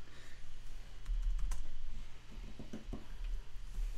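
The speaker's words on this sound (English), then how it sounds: "So, Dan, I'm typing up a comment here" Quiet typing on a computer keyboard, a scattered run of soft, irregular key clicks over a low steady hum, faint and close.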